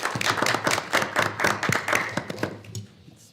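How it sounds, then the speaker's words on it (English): A small audience at a school board meeting gives brief applause, a sparse patter of individual claps that fades out after about three seconds. "Can we give them all a round of applause?"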